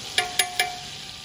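Real butter melted in a pan for Cajun crawfish étouffée gives a steady close sizzle, punctuated by three sharp evenly spaced clicks early on.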